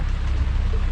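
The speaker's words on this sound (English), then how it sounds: "It is now pouring rain, but I'm nice and dry and warm in here." Heavy rain pours outside a boat on Lake Simcoe, a dense, steady hiss and drumming on the hull, loud and close inside the cabin, with no talk during this short stretch.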